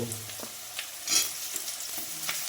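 Tomato and spices such as red chili and garam masala fry in a pan, giving a steady soft sizzle with a few scrapes of stirring. The sound is close and continuous, with no talking.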